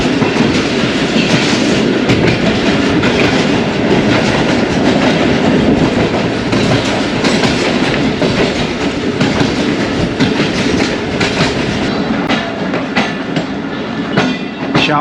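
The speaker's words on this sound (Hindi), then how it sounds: "पेशावर सिटी रेलवे स्टेशन पहुंच रही है ट्रेन" Awam Express passenger train running on the rails toward Peshawar City station, its wheels clattering steadily and loudly with rhythmic clickety-clack and rumble throughout, no voices.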